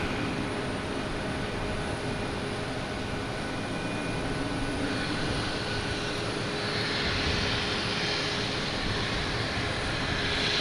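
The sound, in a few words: Delta Airbus A321 jet engines at Boston Logan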